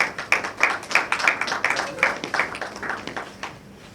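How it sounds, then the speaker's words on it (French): An audience at an evening awards event applauds. The clapping starts with distinct, fairly close hand claps and then thins and fades away over a few seconds. "on applaudit s'il vous plaît"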